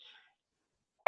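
A single sharp cough bursts out at the end of a quiet stretch during an online meeting, close and loud after a faint trailing sound.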